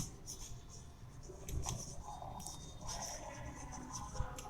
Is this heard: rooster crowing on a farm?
no